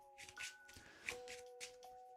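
A deck of Marvel Champions game cards being shuffled by hand, several quick riffling bursts with soft taps between them, close and quiet, with a faint steady tone running underneath.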